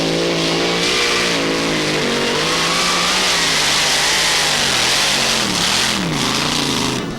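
Mini tractor pulling engine at a 1995 European pulling event in Hörby, Sweden, roaring loud and close at high revs with pitch shifts as the load changes, a continuous harsh drone with no talk.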